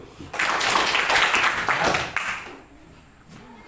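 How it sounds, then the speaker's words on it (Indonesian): Students in a classroom clap together in a loud burst of rapid claps lasting about two seconds, then it cuts off into quieter room sound with a brief spoken word. "Tepuk tangan dulu"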